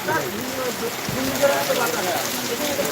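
Steady rain pattering on a surface, with soft scattered drops and faint voices in the background.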